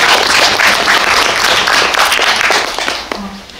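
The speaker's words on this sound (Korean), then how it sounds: "박수 한번" Audience at a post-screening talk event for the film Next Sohee in a Myeongdong cinema hall, clapping in a dense, sustained burst that tapers off near the end.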